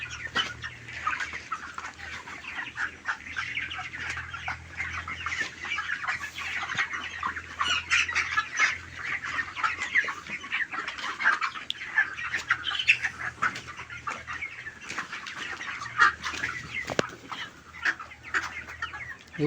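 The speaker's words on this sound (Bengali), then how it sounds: "আজকে ওজন করব, 3-4টা মুরগি ওজন করব, দেখব 27 দিন বয়সে 26 বস্তা খাবার খেয়ে" A flock of 27-day-old Astha company broiler chickens fills a poultry shed with continuous clucking and scattered squawks, a dense busy chorus heard close, with no talking.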